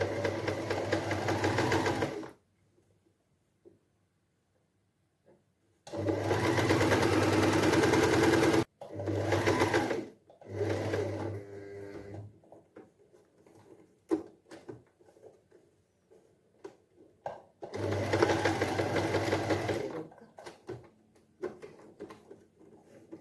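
An electric sewing machine stitches a quarter-inch seam on a child's dress made from an old churidar, running in several loud, close bursts of steady whirring separated by quiet pauses.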